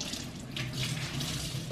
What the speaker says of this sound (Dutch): Maar goed, dit is heet water.